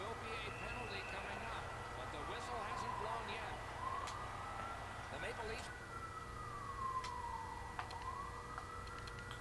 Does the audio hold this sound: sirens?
yes